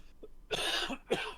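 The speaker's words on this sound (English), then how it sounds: "this cough is driving me nuts" Two harsh, chesty coughs close to the microphone, the first longer and the second a short burst, with no talking.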